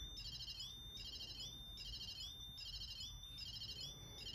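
A battery-powered ghost detector with antennas, running on a 9-volt square battery, sounds a repeating electronic alarm: high, shrill two-tone beeping pulses about once a second, steady and moderately quiet over a low background rumble.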